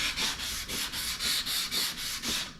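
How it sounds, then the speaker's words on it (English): Hand sanding a vintage Fender bass with 240-grit sandpaper, about ten even back-and-forth strokes in a steady rhythm, close and fairly loud, with no voices. "I'm just using 240 grit right now."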